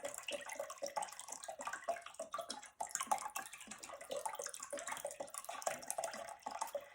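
Pickling liquid for pears pours steadily into a container, a continuous close splashing stream with brief dips, heard alone without talk.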